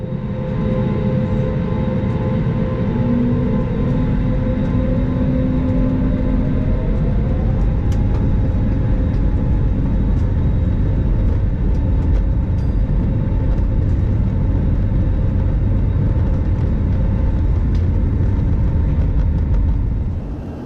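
A British Airways airliner makes its takeoff roll, heard from inside the cabin as a loud, steady roar of engines and rumbling wheels with a rising whine that holds throughout.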